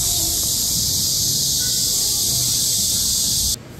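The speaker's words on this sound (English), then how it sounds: "Hear those cicadas going wild." Cicadas shrill loudly in a street in Busan, South Korea, a dense continuous high buzzing that fills the scene, then cuts off abruptly near the end.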